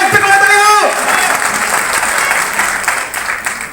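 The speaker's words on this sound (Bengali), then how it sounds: "স্যারকে সবাই জোরে একটা করতালি হোক" An audience at a Human Rights Day cultural programme applauds a guest, steady clapping building after a short musical tone at the start, fairly loud and tapering toward the end.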